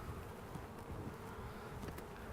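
Honeybees swarm around an open hive where the queen is present, producing a dense, steady buzz that holds at an even level throughout, with no voices.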